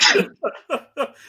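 A single sneeze, a sharp close burst of breath and voice, followed by a few short breathy gasps.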